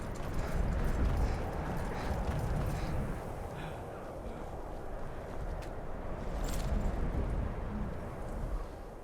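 Steady hoofbeats of a horse trotting over ground in the video game Skyrim Special Edition, fairly close, with a constant low rumble of battle noise underneath and no talking.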